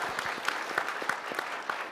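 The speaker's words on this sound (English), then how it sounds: "Go ahead and applaud now." Audience at a National Press Club headliner luncheon applauding, a sparse patter of individual claps with a few sharper slaps standing out, moderately near and fairly light, with no talk over it.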